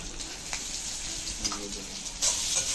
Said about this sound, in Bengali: আলু ভাজা হচ্ছে মুড়ি ঘন্টর জন্য মাছের মাথা দিয়ে